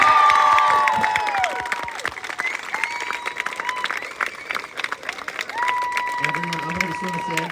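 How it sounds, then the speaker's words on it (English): A crowd at a Texas A&M live debate event applauds and cheers, the clapping loudest at first and then thinning, while tonal sounds and voices carry over it through the rest. "give a round of applause to yourself"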